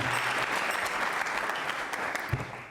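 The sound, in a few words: audience applause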